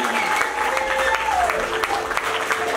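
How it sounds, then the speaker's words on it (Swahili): A church congregation at a morning praise service applauds a bishop, brisk continuous clapping with voices speaking over it. "Tupige Bishop makofi mazuri."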